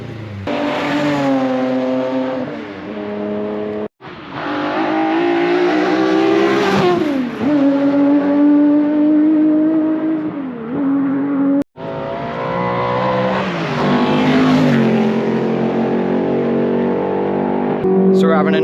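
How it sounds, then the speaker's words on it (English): A Ford Capri Group 2 race car laps at Goodwood, its engine roaring loudly through repeated up-shifts and revving climbs, with brief cuts between gears across the run. "The Capri's going really well. Rick's just running a load of laps at the moment"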